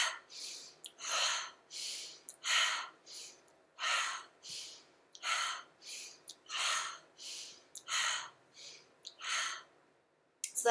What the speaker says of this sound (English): So that's with breathing in through the nose and out through the mouth